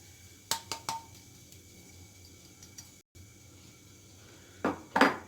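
A few light spoon clinks against a bowl while water and powdered sugar are stirred for a gelatin layer on a fruit tart. The clinks come in a short cluster, then a quiet pause, then two more near the end.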